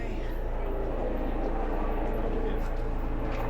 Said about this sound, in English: now we have a helicopter coming to collect us